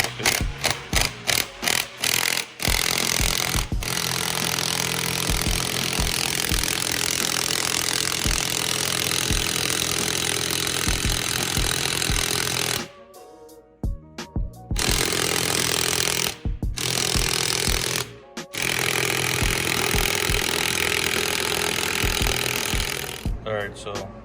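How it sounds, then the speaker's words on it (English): An air impact gun with a 21 mm socket works on a Honda Civic suspension during a rebuild. Loud, rattling hammering bursts start and stop close by, with short pauses between runs. "Now I'm going to take impact gun, it's 21."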